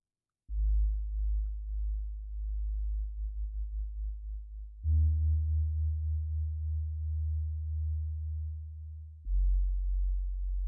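A clean guitar plays sustained low notes through a phaser set to 0 degrees, so only the volume pulses, giving a subtle wavering tremolo. Three held tones sound alone with no voices.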